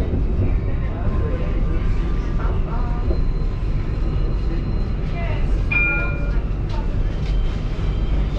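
A tram runs through Mulhouse at Porte Jeune, where all the tram lines cross, with a steady rolling rumble and faint wheel squeals. A voice talks over it.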